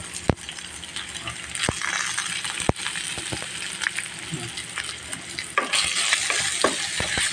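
Chopped fish with turmeric, chilli and cumin frying in a pan for fish cutlets, a continuous close sizzle punctuated by sharp metallic clinks and scrapes of a utensil, the frying growing louder toward the end.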